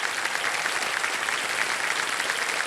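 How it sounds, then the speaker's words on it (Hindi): A studio audience on the game show Kaun Banega Crorepati bursts into loud, steady applause for a contestant's aunt, continuous dense clapping with no voices over it. "तालियां बज जाए इनके लिए एक बार जोरदार।"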